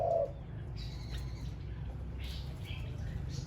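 A Thai decoy bird gives a few short chirping calls in an open outdoor setting, faint and somewhat distant over a steady low background rumble.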